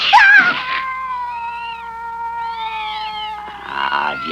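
A cat in an animated series gives a short, high meow at the start, followed by sustained tonal music.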